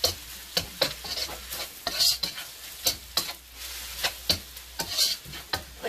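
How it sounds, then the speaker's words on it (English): Chicken mushroom fried rice with egg sizzles in a hot pan while a utensil stirs it in quick, regular scraping strokes that are close and distinct over a constant frying hiss. "Now we're going to add the rice and the egg. And mix it all back together real good."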